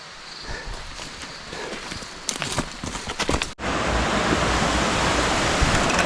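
A mountain stream rushes steadily on the Sri Pada hiking trail, first behind a few nearby footfalls and brushing sounds, then as a loud, unbroken broadband roar.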